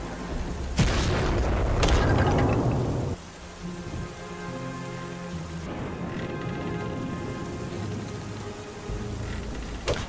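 Bombs exploding in the Dragon Fin Soup game, two sharp booming blasts close together at the start with a rumbling tail, followed by a steady backdrop of rain-like ambient noise.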